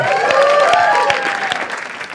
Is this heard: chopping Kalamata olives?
no